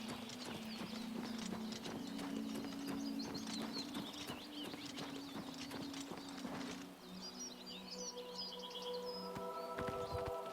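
Hooves clip-clop steadily under a ridden horse in Oblivion Remaster on PS5. A low tone hums along with them, and faint chirping birds come in toward the end.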